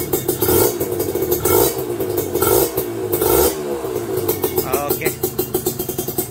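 A scooter engine on a Thai-tuned motorcycle fitted with a small pilot jet revs up and down repeatedly, loud and close, with a steady rough drone and rhythmic throttle blips near the end.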